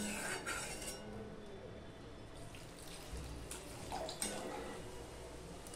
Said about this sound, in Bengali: দেখো বন্ধুরা, ঝোলটা ফুটে গেছে।